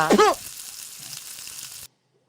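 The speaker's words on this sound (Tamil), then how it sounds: "நல்லா ரெண்டு சீட் போட்டு நல்லா ஃப்ரை பண்ணி எடுத்துக்கோங்க" Bitter gourd pakoda frying in hot oil makes a continuous soft sizzle that follows a brief tonal squeal at the start and then cuts off abruptly into silence.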